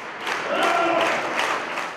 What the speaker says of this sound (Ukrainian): Після кожної композиції чернігівці віддячували гучними оплесками.